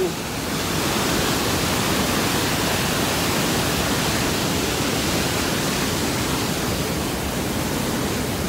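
Niagara Falls at the Cave of the Winds on the New York side roars as a close, loud, unbroken broadband rush of falling water that fills the entire span with constant intensity.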